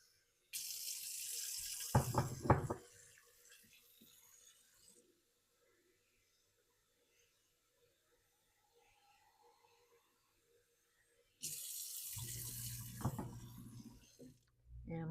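Tap water runs in two bursts to fill canning jars packed with potatoes, a steady rushing pour with some clinks, separated by a quiet stretch with faint movement and a little low talk.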